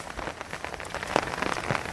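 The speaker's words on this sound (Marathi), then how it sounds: "तसा पाऊस आता जरा कमी आला आहे, पण येईल परत जोरात" Rain falling on a surface during monsoon rice planting in the Konkan, a close, steady patter of drops with a few louder hits and no talk.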